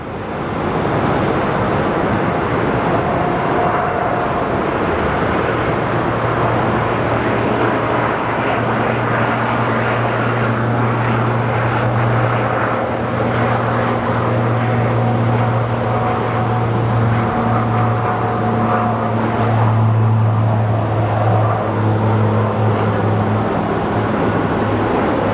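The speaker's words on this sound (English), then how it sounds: "So here we have the little Pilatus plane getting ready for departure." A small Pilatus aircraft prepares for departure at Sky Harbor Airport, its engine giving a continuous, steady drone with a humming tone that holds for the full length, heard from moderate distance.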